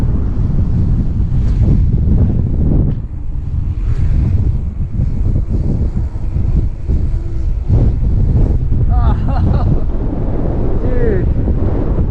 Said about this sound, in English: why does the wind always follow me?